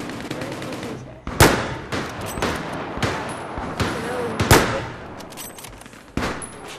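Sniper rifle fire in Battlefield 4 gameplay, with two loud sharp cracks standing out among several other shots and a busy, noisy battle background.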